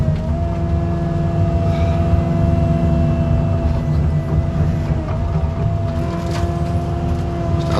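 A CAT 309 mini excavator with a Bush Master brush cutter drones steadily at close range, the engine and cutter running at an even, heavy hum throughout.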